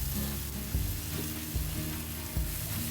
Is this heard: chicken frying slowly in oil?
yes